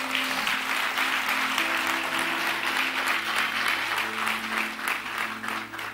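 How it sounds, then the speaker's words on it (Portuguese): A church congregation gives sustained applause at a Christmas Eve service, even, continuous clapping with faint sustained tones beneath, heard fairly quietly. "Dê o melhor aplauso que você pode dar a Deus."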